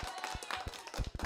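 Crisp hand claps ring out in a quick, uneven cluster, close and fairly loud, like a small group applauding briefly in a room.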